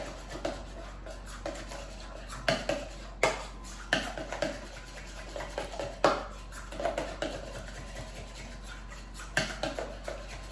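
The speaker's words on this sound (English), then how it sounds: "Give that a stir." A broccoli casserole mixture with mayonnaise being stirred in a dish, irregular scraping and clinking of a utensil against the dish, close and fairly soft, with a few sharper knocks.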